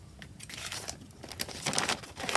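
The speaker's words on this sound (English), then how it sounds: "So I trim this off." A collage sheet edge being trimmed off, scattered crisp crinkling and snipping of paper in irregular bursts, close and fairly quiet, with no talking.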